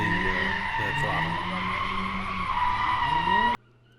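Race car spinning out on track, loud tire skid and squeal with the engine surging and dropping as the throttle is pedalled, cutting off abruptly near the end.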